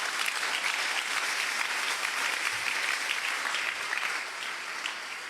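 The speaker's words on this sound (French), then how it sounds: "Est-ce qu'on peut applaudir très fort pour le Seigneur?" A church congregation claps loudly for the Lord during a sermon, with a dense, even burst of applause that holds steady and then eases slightly toward the end, with no voices on top.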